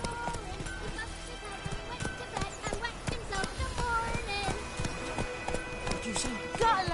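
Hoofbeats from Geralt's horse Roach in The Witcher 3, with rhythmic clip-clop running steadily through a busy game soundscape of music and voices.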